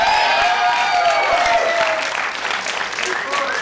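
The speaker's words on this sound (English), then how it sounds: "Give them a round of applause" Studio audience applauding on a televised dating game show, steady close clapping with light cheering and a host's voice talking over it early on.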